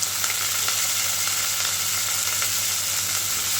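Soaked samo rice sautéing with green chili and curry leaves in a pan gives a steady, close sizzle, dense and even throughout, with faint stirring ticks and no voices.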